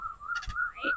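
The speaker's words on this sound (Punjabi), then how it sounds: "ਕੋਇਲ ਦੀ ਵੀ ਮਿੱਠੀ ਮਿੱਠੀ ਸੁਰੀਲੀ ਸੁਰੀਲੀ ਆਵਾਜ਼" A koel sings in an outdoor rural setting, a short clear whistled call standing alone, fairly near, with a brief harsher burst in the middle.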